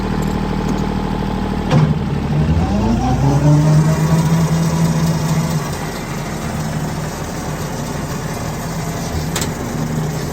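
A tractor engine runs steadily while mowing a field, its tone rising and falling as it works, with a loud, constant mechanical drone and no voices.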